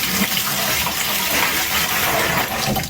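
Water poured from a jar for a DIY grouting job gushes in a steady, close, continuous stream for a few seconds, with no talk heard.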